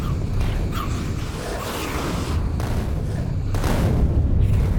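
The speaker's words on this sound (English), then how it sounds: "These explosions are going to be ridiculous." A chaotic run of deep booms and rumbling blasts in Factorio, one after another, with whooshing bursts layered over a constant low roar.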